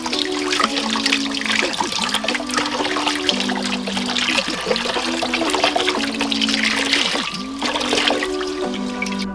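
Water runs steadily over a home-grown luffa sponge as it is rinsed, a continuous splashing trickle that holds at an even level throughout.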